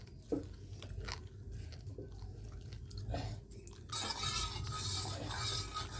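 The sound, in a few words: stirring chicken filling in a pan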